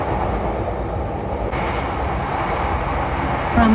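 A Yokosuka line train heading toward Zushi in Kanagawa, Japan, gives a steady interior rumble of wheels and motor, continuous and fairly loud throughout, with a brief faint tone near the end.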